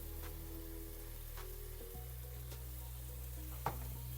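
Dry-roasted spice powder lands in tomatoes frying in a pan for kadai paneer, giving a soft, steady sizzle with a few clicks of a spoon against the pan, quiet and close.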